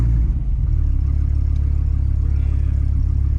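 A car engine, the one rebuilt after a Viper, revs loudly and steadily close by, holding a deep sustained drone with a slight swell near the start and no talking.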